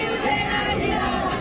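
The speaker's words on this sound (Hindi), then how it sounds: "शिवसेना भवन के बाहर शाम से ही शिव सैनिकों की भीड़ जुटने लगी" Shiv Sena supporters gather outside Shiv Sena Bhavan, a dense, continuous crowd murmur of many overlapping voices with no single voice standing out.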